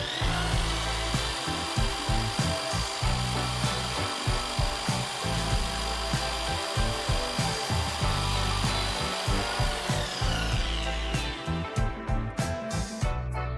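A compact Browynn 10 mm 450-watt electric drill runs at its lowest speed, a close, continuous motor whir with a rough pulsing rattle throughout, no talking over it.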